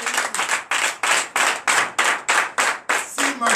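A church congregation at a Sunday worship service claps in unison, about ten strong, evenly spaced rhythmic claps with no talk over them.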